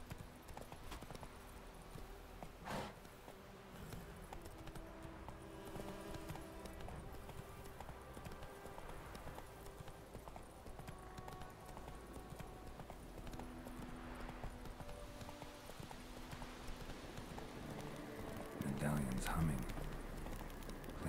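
Horse hooves clip-clop steadily at a gallop in The Witcher 3 open world, a continuous rhythmic pounding under game music and ambience, with a brief louder burst near the end.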